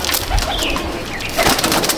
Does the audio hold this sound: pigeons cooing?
yes